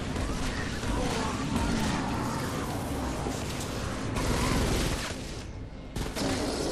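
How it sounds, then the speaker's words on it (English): Explosions and gunfire from the video game Fortnite: Save The World, a dense, continuous barrage of booms and crackling blasts that stays loud for several seconds, briefly dipping near the end before resuming. "Explosions."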